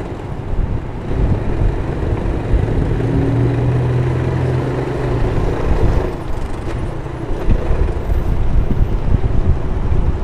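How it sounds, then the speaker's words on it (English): Wind buffets a bicycle-mounted microphone in a steady low roar, with faint traffic or engine rumble underneath throughout, on a New York City highway. "that wind gust pushed me right over"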